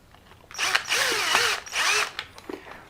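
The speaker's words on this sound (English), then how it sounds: "And then you try to screw it in." A power screwdriver drives a screw into an RC car bumper in two close whirring bursts of about half a second each, with small clicks of handling between them.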